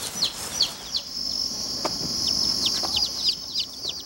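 A broody hen clucks and calls to her chicks on a Brazilian farm, soft repeated clucks mixed with a dense chorus of high, rapid chick peeps that runs continuously, close and moderately loud.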